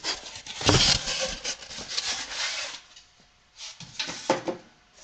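A foam wing slot cutter rubs and rasps through a piece of scrap foam in two close, scratchy bursts separated by a brief pause, with no voices.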